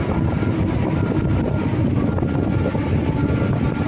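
A Komatsu PC220-7 excavator's hydraulic rear pump runs under a pressure test, giving a loud, steady, continuous engine and hydraulic roar with no break.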